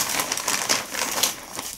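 A small plastic pharmacy bag crinkles as it is handled up close, with a steady rustle and a few sharper crackles over almost two seconds.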